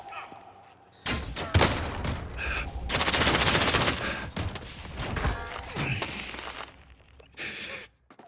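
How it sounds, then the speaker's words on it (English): Enemy soldiers' gunfire in a Call of Duty game: several loud automatic bursts and single shots in quick succession, including one sustained rattling burst, with faint radio-style voice chatter between them. "The enemy is firing at me."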